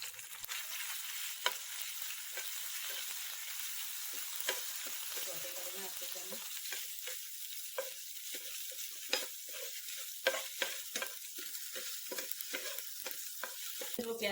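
Cumin seeds and ginger-garlic paste fry in oil over low heat for chana masala, giving a steady, moderately quiet sizzle broken by short crackles and occasional stirring scrapes.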